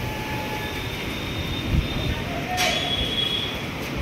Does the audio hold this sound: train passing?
yes